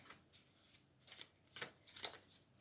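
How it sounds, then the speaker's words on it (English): A deck of playing cards shuffled by hand for a card trick, with soft riffling bursts and a few sharper snaps near the end, faint and close, with no talk. "So we shuffle it"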